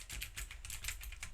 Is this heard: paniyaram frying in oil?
no